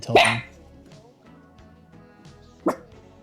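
A dog gives two sharp barks, one at the start and another a few seconds later, with quiet room noise in between.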